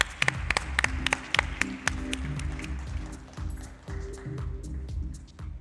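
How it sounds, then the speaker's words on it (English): A business summit audience applauds an internal panelist, with a few sharp, distinct claps up front followed by lighter, scattered clapping that tapers off over a low background hum. "A huge round of applause for our internal panelist."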